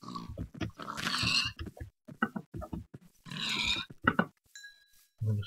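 Pigs grunting in the Minecraft video game, a series of short game-sound grunts and oinks repeating in bursts, fairly close and clear with no talk over them.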